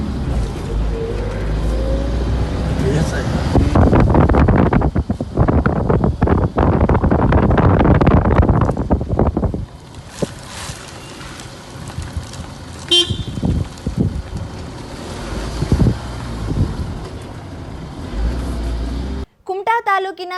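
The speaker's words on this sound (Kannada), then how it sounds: "ಕಾಗಾಲದ ಬೀರಕೋಡಿಯಲ್ಲಿ ತೀವ್ರ ಪ್ರಮಾಣದ ಸುಂಟರ ಗಾಳಿ ಎದ್ದು ಸ್ಥಳೀಯರಲ್ಲಿ ಆತಂಕ ಮೂಡಿಸಿತ್ತು" A strong whirlwind at Bhirkodi near Kagal in Karwar roars as heavy wind buffeting on the microphone, loudest in the first half and then easing to steadier gusts, with people speaking over it.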